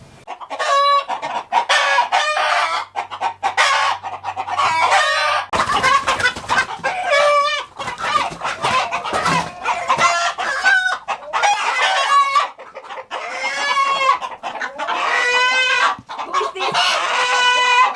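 Roosters cluck and crow loudly and close by, calls overlapping almost continuously with only brief pauses.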